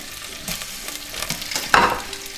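Cold green beans stirred into a pan of hot olive oil and garlic, crackling with a soft, steady sizzle and a louder scrape of stirring near the end, close up with no voices.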